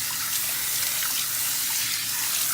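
Running water rinses keratin treatment product out of a client's hair at a hair salon, a steady, even rush of tap water at close range with no talking.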